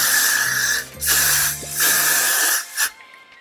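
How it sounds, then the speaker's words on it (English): Hair freeze spray hisses out onto a wig's knots in several sustained bursts with short pauses between them, close and loud, ending with a brief final puff. "they say to spray it with something to hold it"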